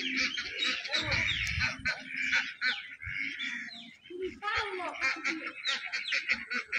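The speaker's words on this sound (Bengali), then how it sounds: "এই দেখেন আমার হাঁসেরা" White farm ducks call near a garden house with a flurry of close quacks and honks among other bird chirps, and a person talks over them.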